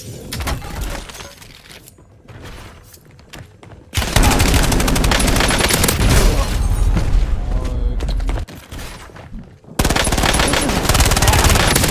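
Machine guns fire in a shooter video game. Quieter scattered shots come first, then loud, dense sustained bursts with brief pauses between them.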